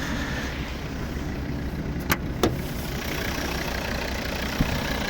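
A 2012 Volvo V40 2.0 D3 five-cylinder diesel engine idles with a low, steady rumble, recorded up close, with a couple of faint clicks.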